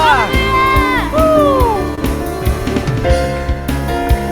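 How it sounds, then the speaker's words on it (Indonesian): A church congregation at a Sunday service in Indonesia shouts and cheers loudly in unison, with whoops and raised voices over steady band music filling the room. "Sorakan haleluya."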